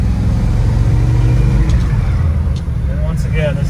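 A 1977 International Scout driving on the road, its engine droning loud and close with a steady, rough low rumble throughout.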